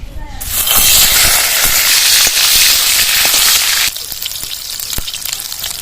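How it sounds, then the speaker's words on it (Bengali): Bay leaf, dried red chilli and cumin hit hot oil as a tempering for dal, bursting into a loud hissing sizzle that holds for a few seconds, then settles to a softer crackle with light ticks. "তেজপাতা শুকনো লঙ্কা জিরে ফোড়নের জন্য দিয়ে দিচ্ছি"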